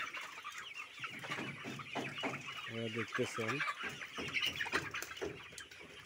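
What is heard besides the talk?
layer chickens clucking in bamboo cage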